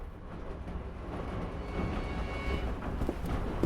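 Steady rumbling ambience inside a moving train carriage, a continuous low mechanical drone with faint rattles, swelling slightly louder toward the end, with no voices.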